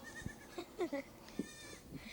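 A pygmy goat bleats in short, nasal bursts scattered across a couple of seconds, fairly close but not loud, with light outdoor background noise around the calls.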